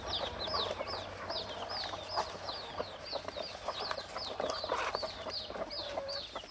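Chickens cluck steadily while feeding on crushed Greek bread, the rapid overlapping calls of a flock continuing close and fairly loud throughout.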